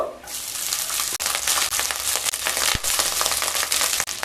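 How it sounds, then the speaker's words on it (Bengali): Rice tipped into a pot of ghee with whole cardamom, cloves and cinnamon, then stirred: a rustling, crunchy, sizzling scrape of grains being mixed, continuous and close, with a few sharper clinks of the spoon. "মিশিয়ে নিয়ে এবার রাইস দিয়ে দেব"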